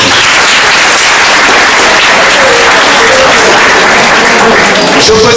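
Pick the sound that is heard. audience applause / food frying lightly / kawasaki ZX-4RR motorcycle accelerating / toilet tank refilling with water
audience applause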